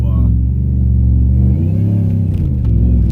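Whipple-supercharged Ram truck accelerating at half throttle with its wheels spinning, a deep, loud engine rumble heard from inside the cab that swells midway.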